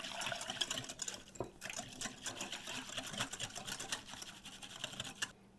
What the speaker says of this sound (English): Use your whisk.